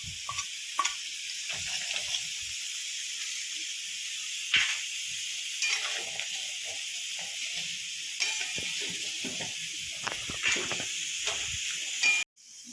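Ghee hitting hot dood potol curry in a pan, a steady close hissing sizzle with occasional stirring clinks and spatters that cuts off abruptly at the end, no talk.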